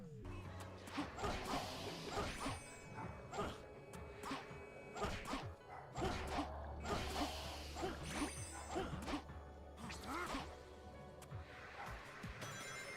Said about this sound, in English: My dog is upstairs barking at nothing.